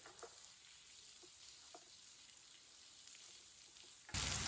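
Eggplant pieces frying in a pan over medium heat while a spoon stirs them: a soft, steady sizzle with a few faint clicks, then a sudden louder burst of noise at the end.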